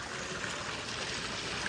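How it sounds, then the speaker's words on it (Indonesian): Water gushing steadily from the outlet of a newly built koi pond filter, a continuous close splashing rush with no voices over it. "Karena ini menggerojok ya, bukan seperti air mancur ya. Bukan seperti air terjun."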